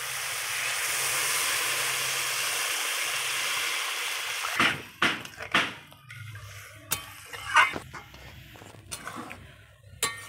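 Water poured onto fried masala for a silver carp fish curry hisses in a steady, bright sizzle for several seconds. Then a spoon clatters and scrapes against the pan in irregular knocks over a quieter bubbling.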